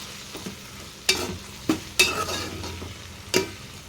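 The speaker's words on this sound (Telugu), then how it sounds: "అవి వేసేసుకుందాం వేసేసుకొని మొత్తం ఒకసారి కలుపుకుందాం" Tomato pieces being stirred into capsicum curry in a pan, with several distinct spatula scrapes and knocks over a soft frying sizzle, close, with no talking.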